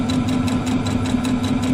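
A sewing machine chain-sews quilt pieces for a Kimberbell Candy Corn quilt. It gives a steady close mechanical hum with a quick, even stitching patter throughout, and no voices.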